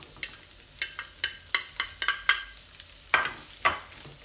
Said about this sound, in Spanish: añadimos cebolla así cortada a cuadraditos